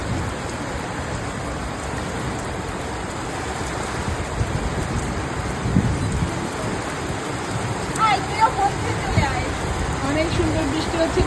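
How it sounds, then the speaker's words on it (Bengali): Heavy rain falls in Khulna as a continuous dense hiss of drops on surfaces, steady and fairly close, with voices talking faintly beneath it. "অনেক সুন্দর বৃষ্টি হচ্ছে খুলনাতে।"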